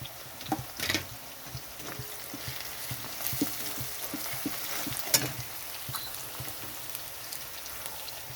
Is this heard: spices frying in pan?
yes